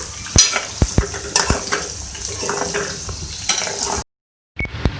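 Arvi (taro root) sizzles and fries in hot oil in a pan, steady and close. A spoon stirs and clinks against the metal now and then, then a short silence near the end.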